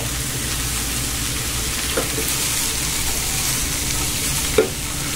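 Finely chopped cabbage frying in oil on a high flame, giving a steady, loud, continuous sizzle with a couple of soft clinks from stirring.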